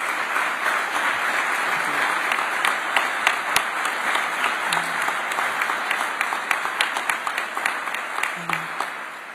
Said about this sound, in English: Can you give our senators a round of applause?